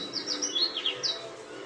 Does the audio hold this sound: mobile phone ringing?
no